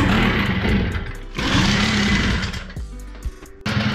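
A Babetta 210 moped's small two-stroke engine revs up harshly when the throttle opens, then sags and stutters as it starts dying, loud and close with no talk.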